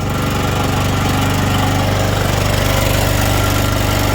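A WEIMA WM2500 generator runs at maximum load with a loud, steady engine drone and pulsing vibration heard up close, with no speech.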